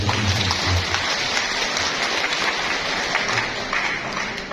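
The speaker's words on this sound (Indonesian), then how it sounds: "Tepuk tangan untuk Profesor." An audience of madrasah teachers at a hotel training event applauds a professor, a dense, steady patter of many hands clapping throughout, fairly loud and close, with faint murmuring underneath.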